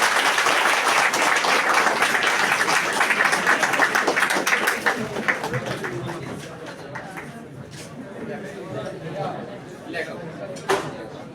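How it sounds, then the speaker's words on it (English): A seminar audience applauds: dense, loud clapping for several seconds that thins out into scattered claps and chatter as it fades, with a few late isolated claps. "Let me get a big round of applause from you."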